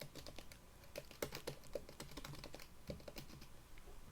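Someone types title text into an editing program on a computer keyboard, with quiet, fast, irregular keystrokes and a few heavier taps, close by and with no talking.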